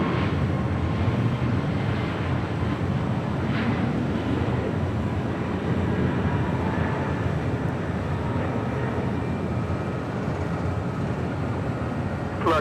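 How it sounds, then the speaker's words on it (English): An American Airlines Airbus A321 departs on runway 25 right at Los Angeles International Airport, a steady distant jet roar that rumbles at an even level throughout with no voices. "Next departure on 25 right, American Airlines Flight 2008. It's an A321."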